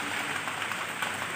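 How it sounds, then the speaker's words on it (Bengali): Light drizzle falls in the evening, a soft even hiss of fine rain throughout with no distinct drops and no talk. "বৃষ্টি তো পড়ছে না, এই যে ছিটাফোঁটা।"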